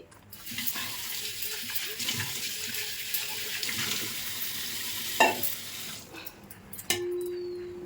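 A vessel is washed under a running tap while making junnu (milk pudding), steady broadband water rushing nearby for most of the clip, with a couple of clinks and knocks near the end as the flow stops.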